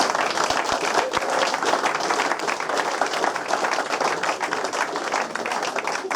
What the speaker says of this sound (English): So a big thank you to the supporters. Give yourself a round of applause.